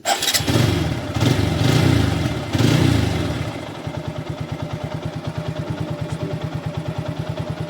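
A motorcycle engine runs at low rpm, around 1200 to 1400, close by: a few revving surges at first, then a steady, even idle thump with a regular beat and no talk.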